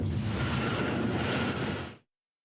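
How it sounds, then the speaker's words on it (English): A nuclear bomb blast in the video game Metal Gear Solid 3, a sustained loud broadband roar that holds for about two seconds and then cuts off abruptly into silence. "It might not be that big of an explosion."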